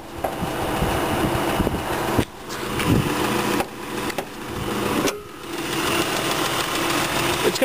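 A 2009 Dodge Journey SXT's 3.5-liter V6 idles steadily with the hood open, a continuous close engine drone with a few brief dips in level and no talking.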